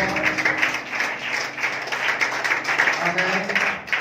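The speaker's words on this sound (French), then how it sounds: "Acclamez pour Jésus-Christ." A church congregation in Casablanca claps and cheers for Jesus, a steady dense patter of applause and crowd voices at moderate loudness, with a speaker's voice carrying over it.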